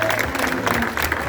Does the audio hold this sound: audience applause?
yes